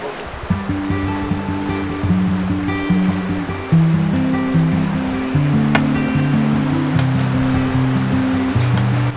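Cold river water rushes steadily through the narrow canyon of The Narrows in Zion National Park, a loud, continuous close wash with broadband turbulence, while tonal pulses sit underneath.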